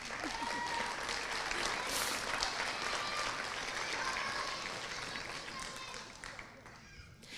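An audience at a middle school eighth grade promotion ceremony claps steadily, a dense sustained wash of applause filling the room and tapering slightly toward the end, with no voices heard.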